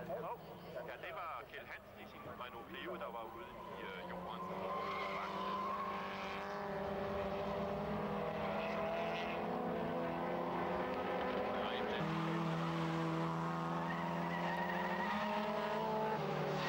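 Race cars, a Toyota Corolla and a Renault 5 GT Turbo among them, roar past on the Jyllandsringen circuit in a Goodyear Eagle Cup race, engine notes rising and shifting continuously under an excited commentator's voice.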